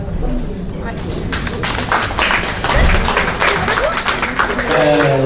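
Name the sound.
applause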